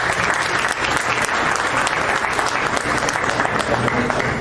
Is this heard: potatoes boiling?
no